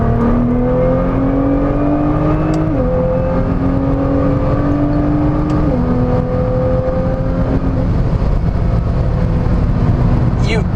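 Nissan GT-R engine droning steadily while driving, its tone stepping up and dropping with gear changes, loud and continuous with road and cabin noise throughout.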